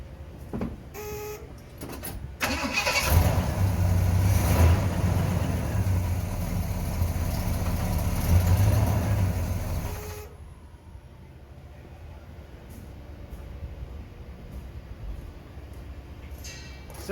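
A classic truck engine cranks, catches and idles with a loud, steady low rumble for several seconds before cutting off, leaving faint clicks and handling noises.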